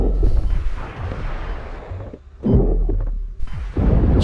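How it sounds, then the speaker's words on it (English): Heavy weapon fire in the sci-fi horror game Dead Space 2, booming shots with deep rumbling tails, several loud blasts spaced across a few seconds with brief lulls between. "Shoot those arms of his."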